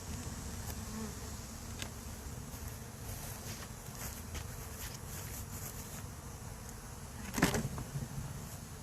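Honey bees buzz around backyard hives that have been pushed together and strapped down for a hurricane, a faint, constant swarm hum with light wind noise and a brief louder pass near the end.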